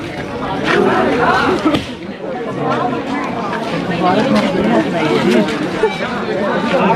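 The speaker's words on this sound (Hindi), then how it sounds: "और बहुत सारा भीड़ लगा हुआ है" A large crowd gathers outside at a village chariot festival in Chhattisgarh. The chatter is dense and steady and sits close around the listener, with overlapping voices throughout.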